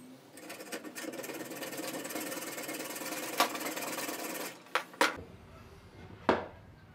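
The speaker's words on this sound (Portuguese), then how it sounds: "eu consegui serrar com arquinho de serra mesmo" A hand hacksaw cuts through an iron hinge piece with a steady, dense rasping stroke for several seconds, then stops, followed by a few sharp metallic knocks and clanks.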